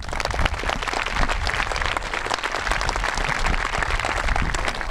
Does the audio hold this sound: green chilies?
no